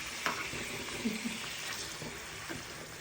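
Fish frying in a pan, a soft steady sizzle at moderate distance with a few faint clinks and scrapes as pieces are turned, no speech heard.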